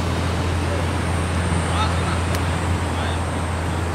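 Steady traffic rumble with a low engine drone as cars, including Toyota AE86, GT86 and GR86 models, roll slowly through a rainy car meet in Japan, continuous and moderately loud with faint background chatter.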